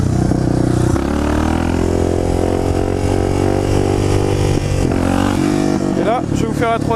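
Suzuki DR 650 supermotard motorcycle accelerating hard and shifting up through the gears without the clutch, a loud steady engine drone rising in pitch with a brief dip at each shift, captured up close on a road ride.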